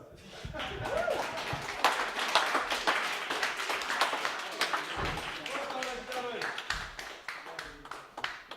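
Audience at a stand-up comedy show at The Platform in Lincoln clapping steadily in a dense, sustained round of applause, with scattered louder claps and a few cheers mixed in throughout.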